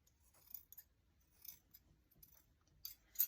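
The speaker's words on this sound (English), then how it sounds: "So I'm just cutting, especially in front of the ears." Scissors snipping faux fur on a handmade gnome, a series of short, quiet, close-up cuts spaced irregularly, ending in a couple of sharper snips.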